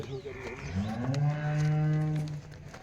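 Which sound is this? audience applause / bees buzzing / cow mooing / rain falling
cow mooing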